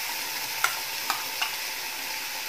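Gravy is spooned into a pan of paneer lababdar over a faint steady sizzle, with three sharp utensil clinks in quick succession.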